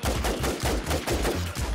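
Rapid automatic gunfire in the Infestation video game, a dense, loud burst of repeated shots running continuously for under two seconds with no talking.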